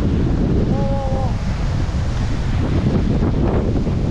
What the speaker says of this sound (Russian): нифига нас тянет порывом ветра